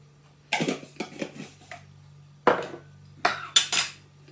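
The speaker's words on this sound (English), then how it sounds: "Stir that up with my knife just to mix in the dry ingredients" A knife scrapes and clinks against a bowl while stirring dry scone ingredients, with cream of tartar among them, in several short bursts separated by pauses, close and fairly quiet.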